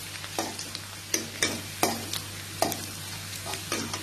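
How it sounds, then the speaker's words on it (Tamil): Chopped garlic and ginger sautéing in a pan for pineapple fried rice, a steady sizzle broken by several sharp scrapes of a spoon stirring, close and moderately loud with no talk. "ரெண்டையும் நல்லா வதக்கிக்கோங்க"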